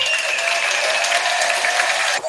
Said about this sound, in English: Let's get this man a round of applause while you go out, man.